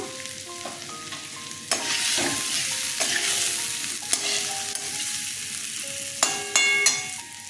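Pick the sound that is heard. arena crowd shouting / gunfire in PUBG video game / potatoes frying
potatoes frying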